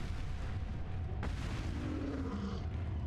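A grenade detonates in the video game Resident Evil 4: a sudden booming blast rises out of dense, constant game noise and rumble, with a low rolling tail afterward.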